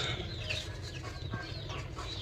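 Aseel chickens, a white fighting-fowl breed, cluck steadily in a farmyard coop, several birds overlapping in soft, close, continuous chatter over a constant background hum.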